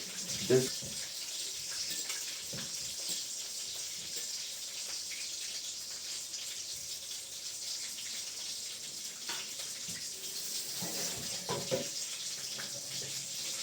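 Water pours from a cooking pot while draining during home preparation of breaded pork cutlets, a steady broadband splashing rush running throughout with a few knocks and clatters of the pot and lid, fairly close.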